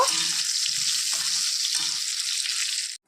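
Eggplant slices fry in hot oil in a pan, a steady close sizzle with a few soft stirring or turning sounds, cutting off abruptly at the end.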